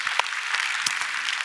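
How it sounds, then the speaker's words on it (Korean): A Korean church congregation at a Friday evening worship service claps in thanks, a brief burst of scattered hand claps with a few sharper individual claps standing out over the brisk patter. "은혜 주시는 우리 하나님께 박수로 감사합니다."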